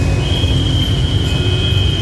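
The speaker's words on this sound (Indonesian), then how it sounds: "Ada kereta dari arah Kebayoran." Train nearing a level crossing from the Kebayoran side, a steady broad rumble throughout with a sustained high buzzer-like tone running over it, loud and continuous.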